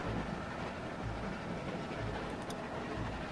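A moving train in The Walking Dead video game, a steady loud rumble of wheels and carriage noise running continuously without a break.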